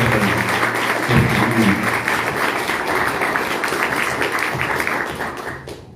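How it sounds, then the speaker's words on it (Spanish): Applause from an audience at a panel of talks, a loud, dense patter of many hands clapping together, steady for several seconds before tapering off at the end. "le damos otro aplauso a Carmen"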